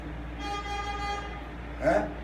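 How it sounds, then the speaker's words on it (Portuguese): A car horn sounds outside, holding a steady toot for about a second, then a second short honk, distant and moderate, behind a quiet indoor room tone. "Vai ter algum carro aí buzinando."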